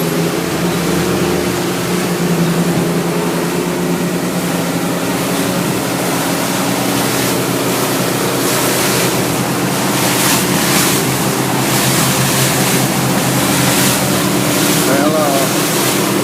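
A 2007 Glacier Bay 3070 boat with twin Suzuki 250 outboards runs at sea. A constant loud roar of engine, wind and water rushing past the hull carries on with no pause.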